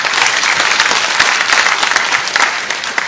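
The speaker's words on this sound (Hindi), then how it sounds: "ताली बजाओ जरा" A crowd at a West Bengal election rally bursts into dense, continuous clapping, loud and close, with no voices over it for about three seconds.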